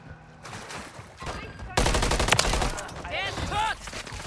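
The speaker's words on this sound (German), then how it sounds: "Das waren die Schuss." Bursts of rapid gunfire from the video game Call of Duty: Modern Warfare III (2023), loud and dense, with a sustained volley in the middle and quieter chatter around it.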